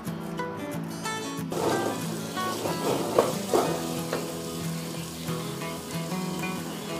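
Onions, tomatoes and spices sautéing in a pan for soya chunks biryani, a steady close sizzle with occasional stirring scrapes and clinks, no talking.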